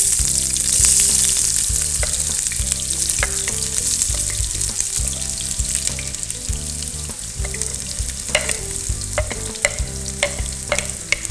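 Onions frying in hot oil in a pan, with a steady loud sizzle and occasional crackles and pops throughout, heard close with no talking over it.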